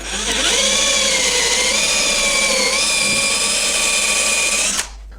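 A power drill with a pocket hole jig bit whines loudly and steadily as it bores a pocket hole into pine, its pitch dipping briefly before it cuts off abruptly.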